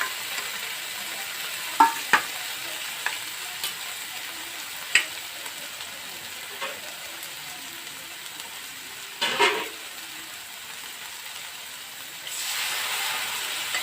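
Cumin, coriander and onion pastes fry quietly in a pan while making an egg curry, a soft steady sizzle broken by a few sharp clicks and scrapes of a spoon, with a louder hiss swelling near the end.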